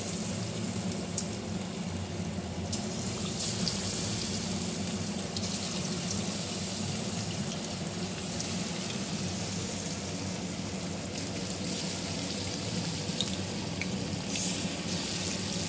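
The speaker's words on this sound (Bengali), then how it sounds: "এবার তেল গরম হয়ে গেছে। এবার আমি একটা একটা করে ছেড়ে দিচ্ছি।" Chicken pieces deep frying in hot oil on a lowered gas flame, a steady, dense bubbling hiss that runs continuously at moderate level with no voices.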